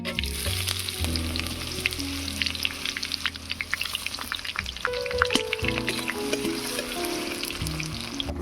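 Chopped onion dropped into hot mustard oil with whole garam masala and a bay leaf, frying with a steady close sizzle and crackle, with occasional clinks and scrapes of utensils, no voices.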